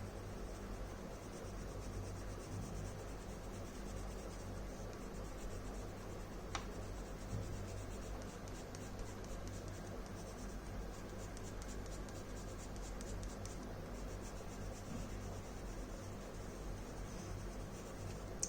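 Steady, dense scratching of a Derwent Inktense colored pencil moving across paper, continuous and close throughout with no talking.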